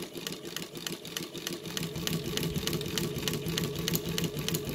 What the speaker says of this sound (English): I'm just going to start stitching